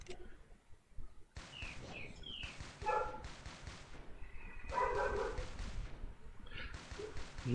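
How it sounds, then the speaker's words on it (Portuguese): A dog barks in repeated short bursts behind video game sounds, moderately loud and close, with no speech over it. "perdoa esse meu cachorro latir"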